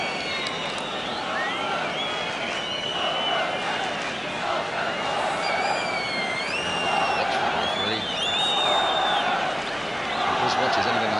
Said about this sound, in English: Just listen to those whistles.